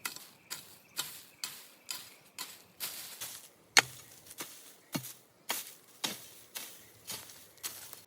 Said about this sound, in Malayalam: ഞാൻ എന്താ കിളയ്ക്കാനായിട്ട് ഇറങ്ങുന്നു